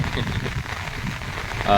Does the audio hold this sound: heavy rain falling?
yes